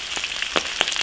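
Chili bean paste with ginger and garlic stir-fries in a hot iron wok, a steady close sizzle broken by a few sharp spatula scrapes and clinks over about a second.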